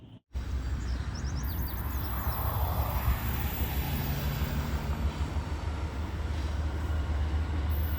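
Norfolk Southern freight train NS 219, with a trailing locomotive, passes nearby as a continuous loud rumble of rolling wagons. A steady low drone is joined briefly by a few faint high squeals.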